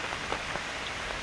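Heavy rain pours during a windstorm, a dense close patter drumming steadily for a brief moment with no voices.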